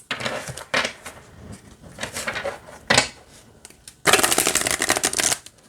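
Oracle cards shuffled by hand nearby, short papery riffling bursts with pauses between them, ending in one longer louder riffle, no talk.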